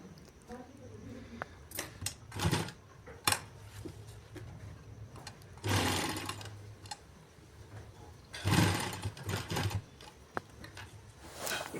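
Sewing machine stitching a shirt collar in short bursts of rapid clattering, each run lasting a second or so with pauses between, close by while a person speaks.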